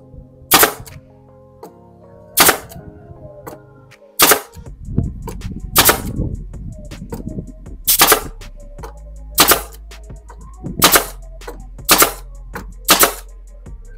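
Sharp, loud pops of an INGCO nail gun firing repeatedly into plywood at irregular intervals, each a crisp bang, with a low hum and faint rattling between shots.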